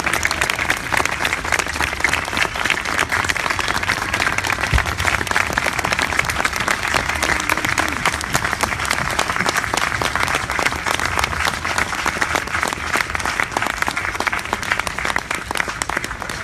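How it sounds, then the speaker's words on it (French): Thunderous audience applause at a public march event, dense sustained clapping from a large crowd that stays loud and even throughout, with no speech over it. "je vous propose de leur adresser un tonnerre d'applaudissements."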